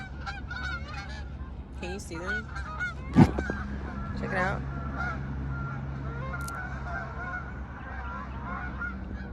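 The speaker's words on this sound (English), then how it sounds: "those ducks are going off, bro. It's a lot of them. They're flying off." A large flock of geese or ducks by a pond honks loudly and repeatedly as the birds take off and fly away, the calls overlapping and fading, with someone speaking briefly over them.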